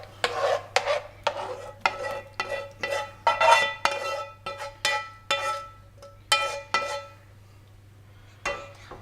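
Bacon lardons and onions being stirred into a thick savoury cake batter for an Alsatian flammekueche-style cake, heard as rhythmic, close scraping and clinking of a utensil against a bowl, repeated steadily over a faint background hum.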